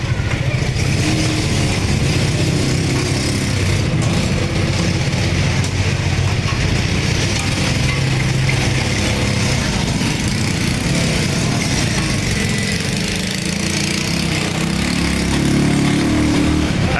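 A tractor engine runs steadily and loudly throughout, a continuous low rumble that stays close for the whole stretch.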